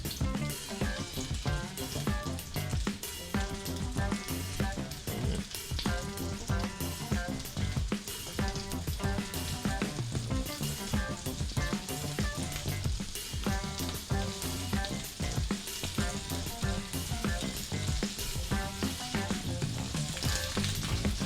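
Previously frozen, defrosting shrimp searing in a hot pan, a loud continuous sizzle with crackling pops and occasional clatter throughout, no talking.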